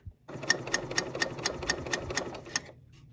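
A sewing machine top-stitches a tote bag at a slowed speed, giving a steady run of quick mechanical stitch clicks for about two seconds, close and clear, with no talking.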